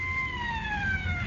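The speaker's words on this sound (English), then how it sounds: "Robin sit in the disabled vegetable truck, watching the taillights of the ambulance disappear at the top of Mount George, and hearing its siren wail as if in grim irony" An ambulance siren wails steadily in a radio drama, its falling pitch sweeping continuously over a low engine rumble, sounding fairly close and clear with no talk.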